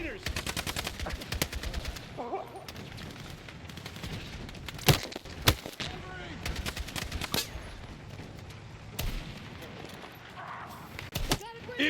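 Machine-gun fire in the video game Battlefield 6 during a combat mission, dense rapid bursts of automatic fire with a few louder sharp reports, while shouted battlefield callouts come through underneath.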